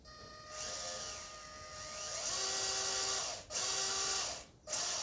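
Small electric motor of an EAZYRC 1:18 scale 4WD Chevrolet off-road RC truck whining as throttle rises and falls, pitch climbing to a high buzz with two brief cutoffs, close and alone.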